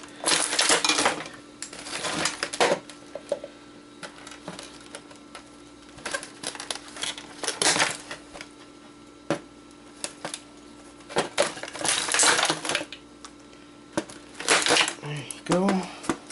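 Wires inside a dead treadmill console are snipped, producing sharp metallic clicks and crunchy cuts in irregular bursts, with quieter handling rattles between them, all close by.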